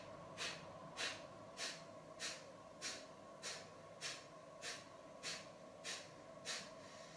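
Eleven quick, forceful nasal exhales in steady yoga breath-of-fire rhythm, each a short airy hiss about every 0.6 seconds, close and clear over a low background hum, with no talking.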